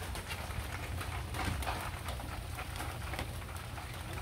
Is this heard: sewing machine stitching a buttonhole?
no